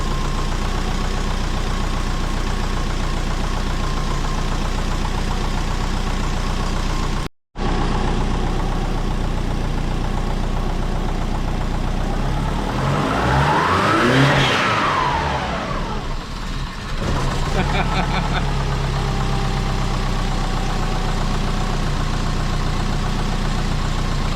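A twin-turbo Subaru engine idles steadily and loud, with one brief dropout, then revs up sharply in a single rising-and-falling sweep before settling back to idle.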